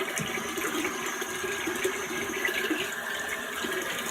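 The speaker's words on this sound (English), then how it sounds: "Oh, that's cold water." Cold water runs steadily from a bathroom sink tap after shaving, a continuous close hiss and splash that stays even throughout, with no voices.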